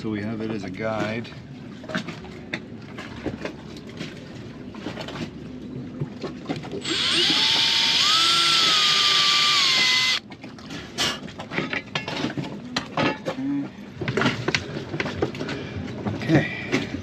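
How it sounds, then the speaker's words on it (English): A power drill runs once for about three seconds to bore a first guide hole, its whine rising slightly in pitch, with people talking before and after. "And we'll drill in the first one so we have it as a guide."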